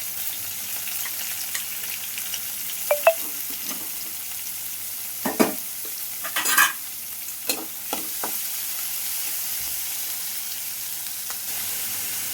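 Onion pieces, green chillies and curry leaves sizzle softly in a pan while a spoon scrapes and stirs them in occasional short strokes, close by and fairly quiet, with no talking.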